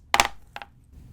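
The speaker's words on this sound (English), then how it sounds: "so roll the dice for the first dimension" Dice rolled on a table, two quick bursts of sharp clattering clicks about half a second apart, close and distinct against near silence.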